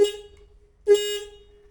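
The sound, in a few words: motorbike stock horn honking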